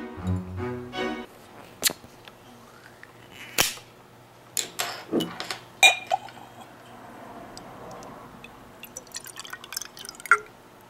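A glass bottle of 100% birch sap drink being opened: scattered sharp clicks, cap twists and small clinks with brief pauses, ending in a few light glassy taps, close and fairly quiet.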